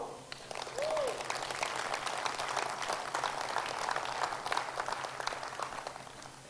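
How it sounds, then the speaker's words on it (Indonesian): Audience applause for Pak Simon at a business talk, a steady, dense wash of clapping that runs the whole time at moderate level, with a faint voice briefly showing through near the start. "Tepuk tangan untuk Pak Simon"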